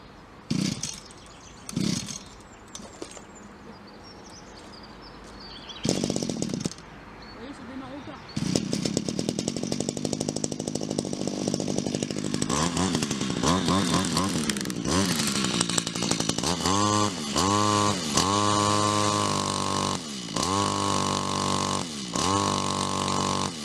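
A petrol brush cutter is pulled and sputters a few times before catching, then its small two-stroke engine runs loud and buzzy at idle and revs up and down in repeated bursts, with someone talking near the start.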